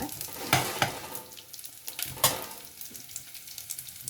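Brussels sprouts curry with onions stirred in a frying pan, a soft sizzle broken by two sharp spoon scrapes early on and another midway, then quieter stirring toward the end.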